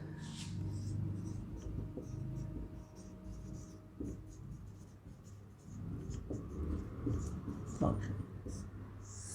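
Handwriting on a board during a maths lesson, soft intermittent scratching strokes heard faintly under a teacher's talking.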